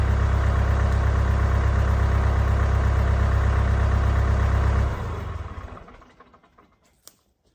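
A tractor engine idles steadily with a loud, low, even rumble for about five seconds, then is shut off and winds down over a couple of seconds into near silence, with one small knock near the end.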